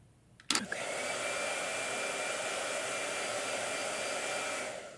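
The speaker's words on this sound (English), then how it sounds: "Blow dryer." A hair dryer clicks on and blows steadily to dry an acrylic wash on a hot press sketchbook page, a loud, even, close whoosh that holds for several seconds before easing slightly at the end.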